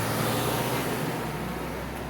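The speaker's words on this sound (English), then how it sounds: "wow, loud car going by, so I had to pause there." A car passes by loudly outside as a steady, broad roadway roar that fades gently over about two seconds, with no voices.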